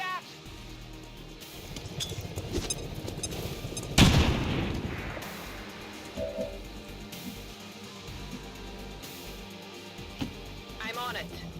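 A grenade goes off in a video game with a loud boom about a third of the way in, surrounded by scattered distant gunfire and muffled game noise while people talk over it.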